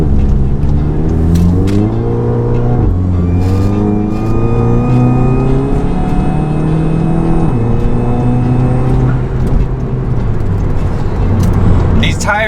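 A stage 2 Volkswagen Mk7 GTI accelerates hard on fairly new tires, its engine note climbing through gears in loud rising sweeps with brief drops at shifts, heard from inside the car.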